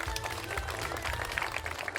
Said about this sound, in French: Et on peut les applaudir très très fort de public et les encourager.